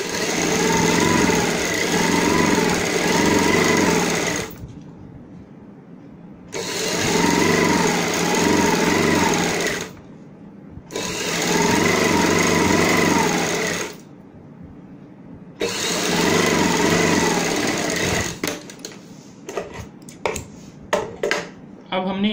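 An electric sewing machine stitches the side seam of palazzo pants in four long steady runs of close, loud whirring and needle chatter, separated by short pauses and ending with a few light handling clicks.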